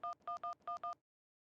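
A telephone is dialed with five clean, evenly spaced keypad tones in quick succession, clear and fairly quiet, followed by silence.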